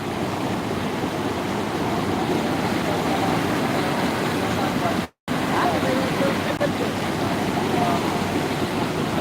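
Steady, loud rush of a flooded river, a continuous broadband roar with no pauses except one brief dropout midway.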